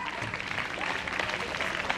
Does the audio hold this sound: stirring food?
no